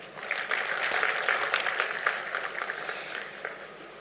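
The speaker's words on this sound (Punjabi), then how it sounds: "ਇਹਦੇ ਵਾਸਤੇ ਮੈਂ ਤੁਹਾਡੇ ਲਈ ਤਾੜੀ ਮਾਰਦਾ" Steady, dense applause from a crowd at a political speech by Bhagwant Mann, sustained for several seconds at a moderate level with no speech over it.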